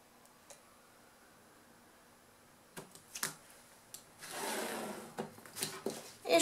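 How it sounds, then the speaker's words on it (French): Scissors cut through outer fabric and lining fabric with soft, close snips and rustles that come in brief irregular bursts after a quiet opening, with one longer scraping stretch in the middle. "Je trace 1 cm de chaque côté et je vais les découper."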